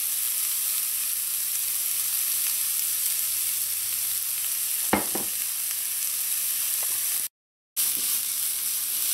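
Onions frying in a pan, a continuous soft sizzling hiss with a single brief clink near the middle and a short dropout toward the end; no talking.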